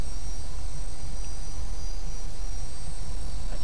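A video game aircraft taking off from a runway, its engine a loud, steady, unbroken roar filling the whole moment, with no talk.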